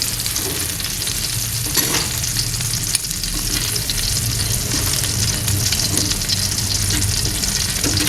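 Chilies for a super spicy sambal stir-fry in a pan, giving a loud, constant close sizzle with faint scraping of stirring and no voices.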